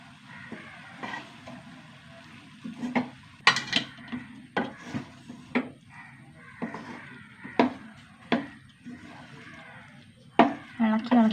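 A spoon stirs tomato rice in a pot, making scattered clinks and scrapes against the metal while a person talks over the stirring.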